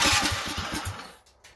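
A DuroMax 440cc engine with a jet upgrade, set to half choke and no throttle, sputters with a rapid run of low, chugging pulses, then cuts out and falls quiet after about a second.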